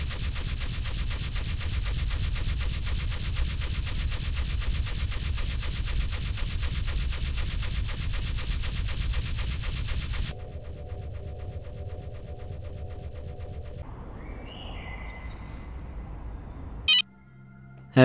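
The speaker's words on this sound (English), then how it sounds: "fire C-beams." Sci-fi C-beam weapon fire rendered as a loud, sustained pulsing blast for about ten seconds, dropping to a lower electronic hum, then a sharp burst near the end with no talking.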